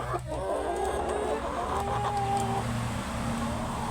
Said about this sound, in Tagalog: Ito naman po yung mga rooster.